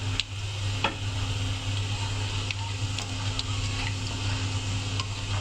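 Garam masala dropped into hot oil for Lahori chana masala: a steady, soft sizzle with scattered small ticks and crackles over a low hum, continuous and fairly quiet throughout.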